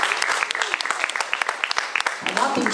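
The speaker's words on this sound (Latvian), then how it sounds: "Skatītāji veidojam kopējus svētkus un sirsnīgus aplausus." Lively audience applause at the Sadancis dance event: dense, close clapping from many hands with sharp individual claps. A voice briefly joins near the end.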